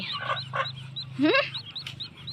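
A chick peeps repeatedly in short, high chirps, close by, with one longer rising squawk in the middle.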